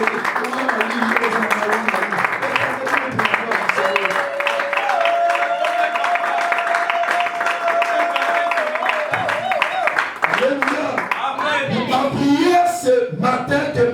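A church congregation claps and acclaims loudly and continuously, with dense applause and raised voices blending into a sustained, crowded roar.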